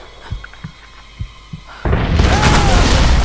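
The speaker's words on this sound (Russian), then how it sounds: "Выстрелить из гранатомета." A sudden loud grenade launcher blast erupts in the video game Tomb Raider (2013), then a sustained roaring rumble with a rising whine, preceded by a few soft thumps in a quiet game scene.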